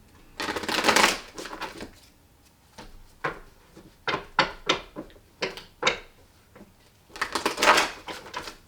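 Tarot cards are shuffled by hand in two longer riffling bursts at the start and end, with a series of short crisp card snaps and taps between them, close and fairly quiet with no talking.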